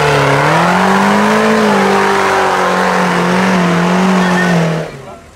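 An off-road rally vehicle's engine roars loud and close at a night event, revving and wavering in pitch for several seconds before dropping away quickly as it drives off.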